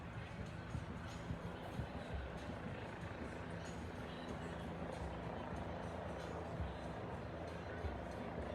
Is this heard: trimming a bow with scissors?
no